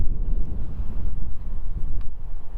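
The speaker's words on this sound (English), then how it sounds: "that's quite windy because I've just stepped out, and if you listen to" Strong wind at a cemetery buffets the microphone with low rumbling gusts, loud and steady throughout.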